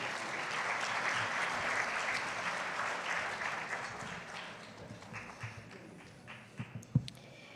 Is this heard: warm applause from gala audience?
yes